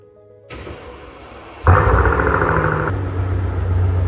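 A Mercedes CL65 engine cranks over and catches, rising to a loud, rough running roar that settles into a steady idle.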